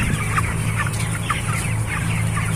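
Broiler chickens cluck steadily in a dense, overlapping chorus inside a coop, with a constant fan hum beneath them.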